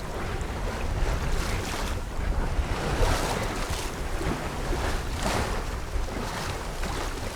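Sea waves push a sailing boat at sea in July, with continuous rushing water and surf swells that rise and fall over steady wind noise buffeting the microphone, and no voices.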